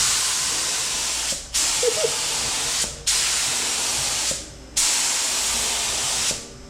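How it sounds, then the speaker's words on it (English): Paint spray gun spraying a BMW E30 fitted with an Mtech 2 body kit, a steady close airy hiss in four long bursts separated by brief pauses, no talk. "want me to spray this?"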